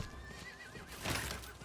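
A horse in the Diablo IV video game gives a brief, fairly quiet whinny with a wavering, falling pitch over an ambient game backdrop.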